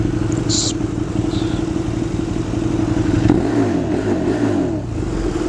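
A motorcycle fitted with a new Akrapovic titanium slip-on exhaust revs and rumbles at close range, its engine note rising and surging through the second half.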